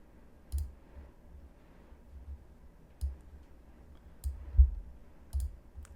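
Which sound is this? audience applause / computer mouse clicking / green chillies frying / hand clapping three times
computer mouse clicking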